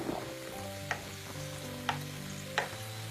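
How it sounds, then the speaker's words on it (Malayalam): Onion and wheat flour fritters fry in oil, a quiet steady sizzle with three soft, evenly spaced scrapes as they are turned. "അങ്ങനെ തിരിച്ചു മറിച്ചിട്ട് നല്ലൊരു ഗോൾഡൻ ബ്രൗൺ നിറം ആവുന്നത് വരെ ഇതൊന്ന് ഫ്രൈ ചെയ്തെടുക്കാം"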